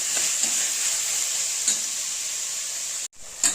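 Tomatoes and green chillies fry steadily in a hot pan with a continuous close sizzle, broken by a few soft stirring taps and a brief pause before the hiss resumes.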